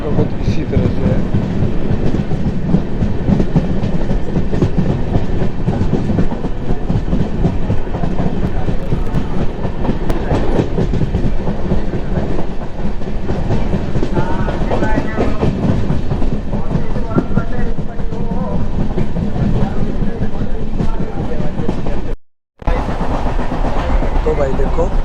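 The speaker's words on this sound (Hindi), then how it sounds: "और ये ट्रेन का डब्बा।" Constant rattling rumble and clickety-clack inside a coach of the Thiruvananthapuram to Bangalore train, loud and unbroken for the whole stretch except one brief dropout, with voices talking underneath.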